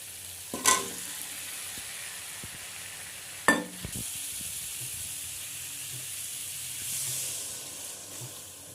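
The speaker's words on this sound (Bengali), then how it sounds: "আর এদিকে আগে আলু আর পটল ভেজে রাখছি।" Potatoes and pointed gourd fry in a pan with a low continuous sizzle, broken by two sharp clanks of utensil against the pan and a brief swell of hissing steam later on.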